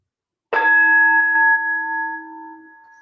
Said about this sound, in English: Just kind of go with the bell